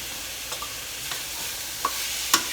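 Tomatoes sizzle in a pan while being stirred for a shrimp and crab fra diavolo, a soft continuous frying hiss broken by a few sharp scraping clicks from the spoon, with no talking.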